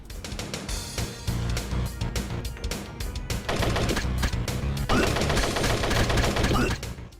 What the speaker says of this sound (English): Little Red Riding Hood murdering her zombified grandmother with a shotgun